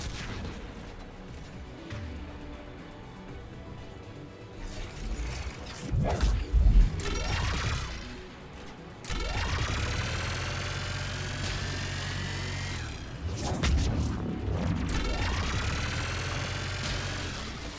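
A Geth Spitfire weapon firing in Mass Effect 3, a sustained mechanical whirring roar that spins up with a rising tone, holds steady, then cuts off, repeating in several long bursts.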